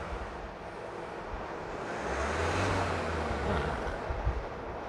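A 1.9 diesel engine revs up to a sustained high whine around 3000 rpm for a couple of seconds over steady background rumble, then settles back down.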